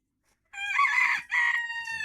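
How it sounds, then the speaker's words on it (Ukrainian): A single loud rooster crow rings out close by on a frosty morning in a garden, long and harmonic with a brief break in the middle. "заважають знімати відео мої півні"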